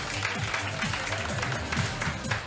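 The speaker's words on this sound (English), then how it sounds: "Give yourselves a round of applause" An audience at a New Year's Eve performance applauds in a steady wash of clapping, with crowd voices mixed underneath.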